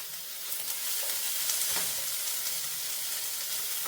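Steady frying hiss of curry leaves and tomato in an oiled pan, a continuous close sizzle with faint stirring scrapes and no talking.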